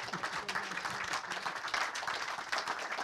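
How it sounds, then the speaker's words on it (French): An audience at an economics conference applauding the guests, a sustained, moderately distant wash of clapping from many hands with a few murmuring voices underneath. "de vous dégourdir les mains en applaudissant nos invités"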